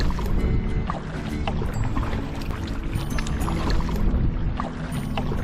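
A kayak paddles along the Florida Inland Waterway near Snook Island Preserve against an outgoing tidal current, with loud close splashing and water pouring off the paddle over a constant wash of water and wind.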